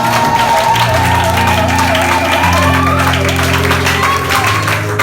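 A church congregation applauds and cheers in a steady, loud wash of clapping and voices that runs the whole time, with music playing underneath.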